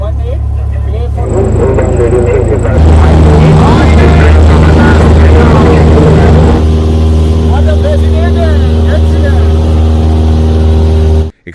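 Training aircraft powering up for takeoff on a military flight-training runway, a loud, steady engine drone with a low hum that swells and holds close by, with radio-style voices over it.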